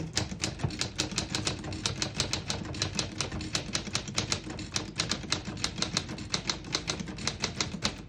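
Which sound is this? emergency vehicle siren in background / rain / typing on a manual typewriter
typing on a manual typewriter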